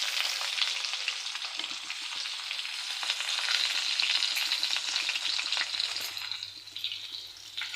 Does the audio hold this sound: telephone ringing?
no